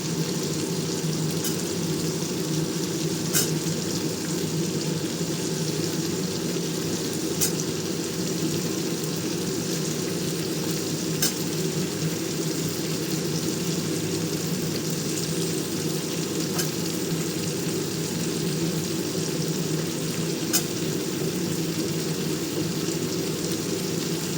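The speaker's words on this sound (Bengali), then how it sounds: "পুঁই ডাঁটাগুলো আগে ভাজা ভাজা হবে" Malabar spinach stems frying in a pan, a continuous even sizzle held for the whole stretch, with faint periodic clicks over the hiss and no talking.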